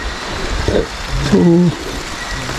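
Heavy rain pours outdoors as a steady broadband hiss, with someone briefly speaking over it and a short tonal sound partway through.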